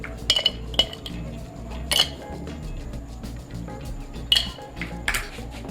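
Ice cubes clink and rattle into a glass for a mint margarita, giving several bright chinks and pings over a low steady background hum, close and moderately loud.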